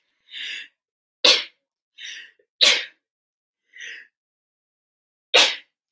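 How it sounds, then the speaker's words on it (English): Repeated human sneezes, about four sharp bursts spaced a second or so apart with softer breathy gasps between them, close and loud against silence, during a live football watchalong stream. "Yeah, I'm gonna sneeze."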